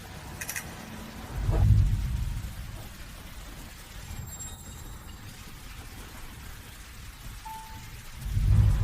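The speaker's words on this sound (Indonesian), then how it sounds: "Aku tunggu hujannya reda." Rain falls at night as a steady, soft hiss throughout, with low rumbling swells near the start and end, and no voices.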